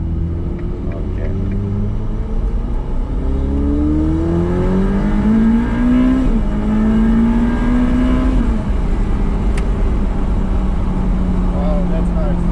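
Ferrari F8 Spider accelerating hard from the driver's seat, its exhaust note climbing steadily in pitch, dropping at a gear change, then rising again under a loud, continuous rumble.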